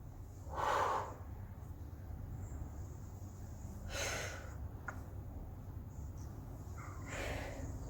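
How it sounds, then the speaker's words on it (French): Forceful exhaled breaths during a floor waist workout, lying with one arm on the ground and hand at the neck while lifting legs and torso together, three sharp puffs spaced a few seconds apart over steady low room hum. "On souffle et on inspire."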